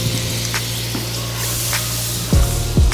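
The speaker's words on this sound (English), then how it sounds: "Now let's cook down our onions." Onions cook down in butter in a pan while seafood boil cabbage is being made, giving off a steady close sizzle and crackle, with a few soft knocks from utensils toward the end.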